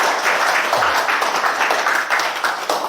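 An audience at a monthly research society lecture on feng shui claps steadily for the speaker, a dense, continuous round of hand claps filling the room with no voices over it.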